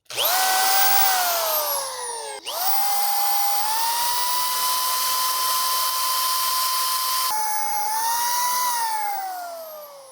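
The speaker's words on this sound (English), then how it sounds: "we're gonna start with my drill here. Give it the test." A cordless drill powered by an EcoFlow power station whirs at high speed, winding up sharply, briefly dipping, then holding a steady whine before spinning down; loud and close, no talk.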